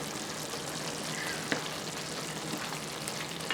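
Mexican rice sizzling and frying in a pan while it is stirred, a steady crackling hiss with a few soft scrapes, heard alone.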